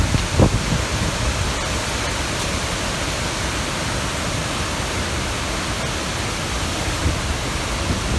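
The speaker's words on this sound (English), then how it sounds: "Let's give them just a little something out of the faucet." Water running steadily from a faucet, a loud, continuous broadband hiss and splash without pause.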